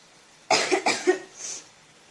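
A short burst of harsh coughing, two or three quick hacks close by, trailing off into a softer breathy exhale.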